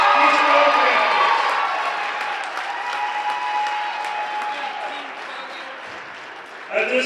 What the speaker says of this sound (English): one final applause for your 2021 District 9 AA champion, Keystone Panthers